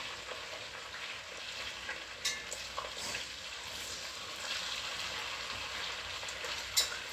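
Meatballs seasoned with black pepper and salt frying in a pan, a steady soft sizzle with occasional light clicks and scrapes from turning, fairly quiet and close.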